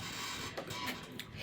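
An embroidery machine stitching a Thanksgiving wall hanging gives off a quiet, steady mechanical whir with faint rhythmic rasping ticks, close and low in level, with no talking.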